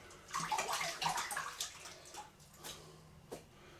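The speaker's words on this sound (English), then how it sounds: "Put the sieve in the water." A kitchen sieve is swished and rinsed in water while baking homemade vanilla biscuits, giving soft close splashing and gurgling in short bursts that fade into a few quieter drips.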